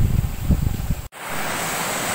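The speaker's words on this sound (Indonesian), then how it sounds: "Ini adalah Sungai Cibeet" Cibeet River flowing, a broad steady rush of water heard close and loud, briefly cut off by a sharp dropout before the wash resumes evenly, with no talk.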